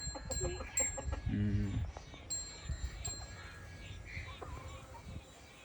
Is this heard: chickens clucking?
yes